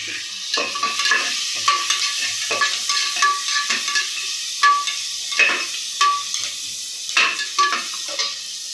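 Curry leaves and four green chillies fry in hot oil for an egg biryani, a close sizzle broken by rhythmic spoon scrapes and stirring clatter against the pan.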